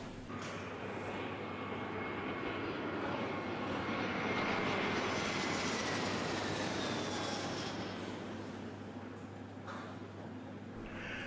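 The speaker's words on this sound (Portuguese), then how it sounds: "agora é só esperar o avião decolar e a gente ir pro nosso acampamento" An airplane takes off in the video game Minecraft with a loud, steady engine roar that swells slightly midway and holds for about eleven seconds, with no talking.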